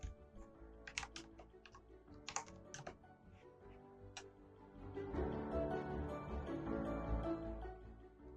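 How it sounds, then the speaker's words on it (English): Computer keyboard typing while filling in an online renewal form, a quiet cluster of close, separate key clicks, then a short pause and a softer, denser burst of keystrokes. "Type the letter M plus the 8 numbers following."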